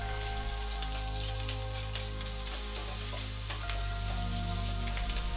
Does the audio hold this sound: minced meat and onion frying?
yes